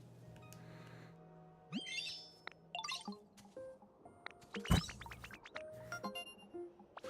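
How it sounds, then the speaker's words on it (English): Small bird in the video game Pokémon Pokopia chirping in short, rising tweets and trills, fairly faint, scattered over a quiet electronic hum with a few sharper clicks; no talking. "Funny little bird."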